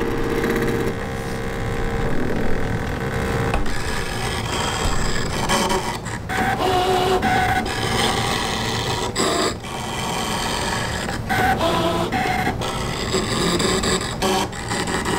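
A Brother ScanNCut machine cuts canvas fabric with continuous motor whirring and mechanical buzzing, punctuated by irregular clicks and pauses as the blade moves, close and moderately loud.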